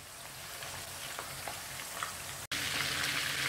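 Masala-coated fish fries in a pan over medium heat, making a quiet, steady sizzle with scattered crackles and pops and a short break partway through.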